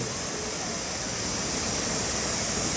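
The tiered Chet Sao Noi waterfall in Muak Lek, Saraburi, rushes as a loud, steady broadband roar of falling water, constant and close without a break.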